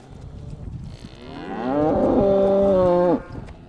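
Black Angus cattle on a ranch in Rancho Murrieta near Sacramento; one loud, close moo swells after a quieter lead-in, holds as a long resonant low call for over a second, then cuts off.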